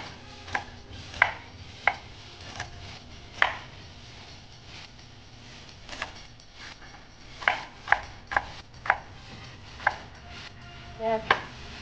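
A knife chops onions on a board for a Filipino paksiw dish, with a dozen or so crisp, irregular chops over a low kitchen hum and no talking.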